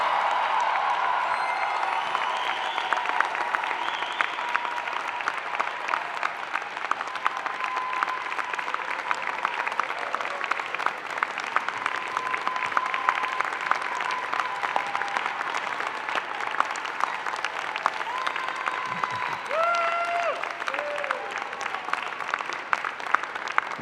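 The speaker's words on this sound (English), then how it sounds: "I ask your friends, family, and members of the platform to join me in applauding the amazing graduating class of Spring" An audience at a Spring 2019 graduation ceremony applauds the graduating class in a long, even wash of clapping from many hands, steady throughout with no talking over it.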